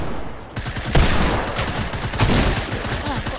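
Shotgun gunfire in the Fortnite video game: a loud, dense stretch of blasts and battle noise filling the whole clip, with no talk.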